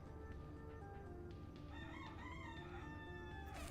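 A pet rooster crows close by over a constant low background rumble, one drawn-out wavering call with a sharper burst at the very end.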